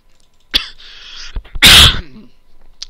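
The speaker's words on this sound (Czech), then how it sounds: "tak kašlu" A man with a cold coughs sharply and close to the microphone, a short hack followed by a louder burst and a rough throaty clearing, with brief noise between.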